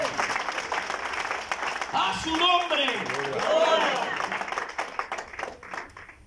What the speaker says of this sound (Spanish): Si lo cree, denle un aplauso fuerte a Dios